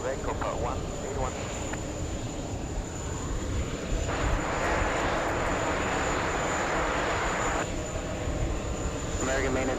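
Airplane engine at JFK airport, a steady broadband roar that swells louder through the middle as the aircraft moves, with radio chatter and voices over it.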